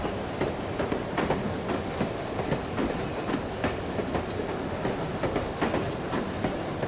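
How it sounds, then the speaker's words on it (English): Steady rumble and rhythmic clickety-clack of a moving train in the video game No One Lives Forever, running continuously and fairly loud throughout with no talk over it. "I love riding the train."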